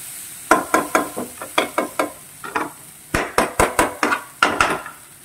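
Banana stem stir-frying in a pan, with a spatula knocking against the metal in quick, rhythmic runs of sharp, close taps over a faint sizzle.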